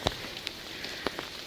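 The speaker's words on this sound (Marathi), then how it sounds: "पाऊस चालूच आहे, पाऊस बंद नाही." Rain falls steadily in the monsoon hills of Mahabaleshwar, a soft continuous hiss with a few sharper drop ticks scattered through it, quiet and without voices.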